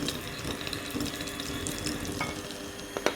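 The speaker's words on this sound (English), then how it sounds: "make sure your butter is nice and soft. And you just want to mix that together" Soft butter and sugar being mixed by hand in a bowl for red velvet cake batter, with close, continuous scraping and stirring and a few sharp clicks near the end.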